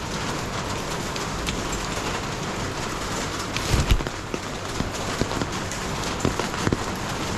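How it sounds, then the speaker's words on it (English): Steady rain pours down close by in a Macau alley, a dense hiss with scattered heavier drops and a few thuds, and no voices. "It's really raining today"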